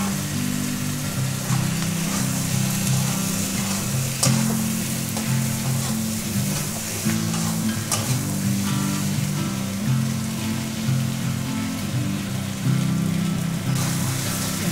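Pointed gourd and onions fry in a pan, giving a loud, steady sizzle like rain on a surface, with occasional scrapes and knocks of stirring throughout.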